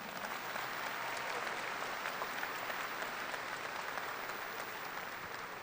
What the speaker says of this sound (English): Can we give the leadership team members a round of applause?